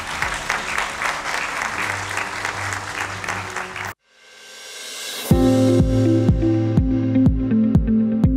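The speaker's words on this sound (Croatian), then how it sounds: "sve djevojke imaju podjednako jak aplauz" Audience applause fills a beauty pageant hall in Lukavac, Miss BiH for Miss World 2021: a dense, steady clapping wash for about four seconds, then a brief hush before loud music begins.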